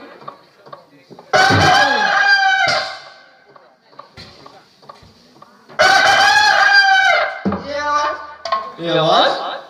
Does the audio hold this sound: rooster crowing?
yes